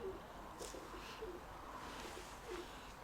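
Quiet pigeon coos recur every second or so over a steady low background noise, faint and somewhat distant.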